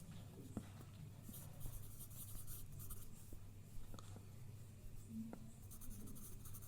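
A pen writing on paper in a fifth-grade EVS workbook: soft, faint scratching strokes in short bursts, close up over a low steady hum, with no talking.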